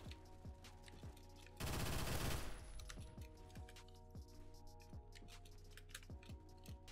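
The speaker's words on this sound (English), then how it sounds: "I did just hear a shotgun" One loud shotgun blast with a brief rolling echo in Phantom Forces, set among quiet rapid keyboard clicks and soft tapping.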